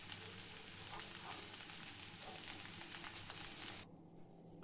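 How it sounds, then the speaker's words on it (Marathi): Onion poha (kande pohe) sizzling and frying in a pan, a steady close crackle throughout with no speech, the sizzle dropping slightly near the end. "मस्तपैकी असे गरमागरम कांदे पोहे बनवून घेतले"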